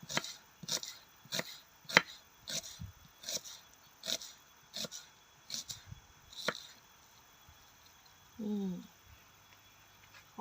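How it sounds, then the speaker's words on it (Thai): Steady knife chopping of vegetables on a board, a quick series of sharp even taps, close by, followed by a brief rustle near the end. "เดี๋ยวเรามาหั่นผักกันเลยค่ะ"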